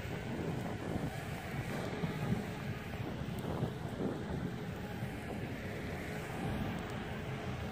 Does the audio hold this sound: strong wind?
yes